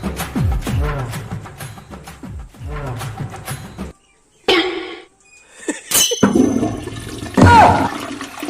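A toilet flushes in a hostel latrine with a rushing gurgle of water, close and fairly loud, broken by gaps, while people talk and cough nearby.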